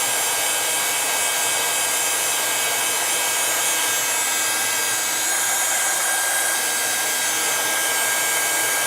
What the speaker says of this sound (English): hopefully you can hear me over the top of the heat gun